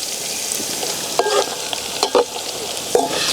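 Ginger-garlic paste frying in a pan for boti curry, a loud continuous close sizzle with a few brief stirring scrapes spaced through it, and no one speaking.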